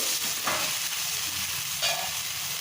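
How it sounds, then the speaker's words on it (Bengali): Spice paste frying in a pan over low-to-medium heat for a rohu fish curry, a steady broadband sizzle with faint stirring scrapes, close and continuous. "মশলাটা খুব ভালো করে কষে নিয়েছি 2 মিনিট সময় ধরে।"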